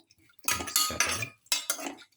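A spoon stirring lamb liver and beetroot stew in a pot after water is added, giving close scraping and clinking strokes in several short bursts with brief pauses between them, with no talk.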